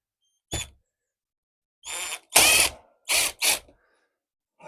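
A power driver whirs in several short bursts, backing a screw out of a campervan door lining, with a single quick burst followed by a cluster of four spaced across a few seconds of silence.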